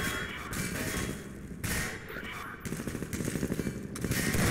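Bursts of video game gunfire in Half-Life 2 Episode One, a rapid crackle of shots that comes in clusters with brief pauses and builds in density toward the end, loud and close.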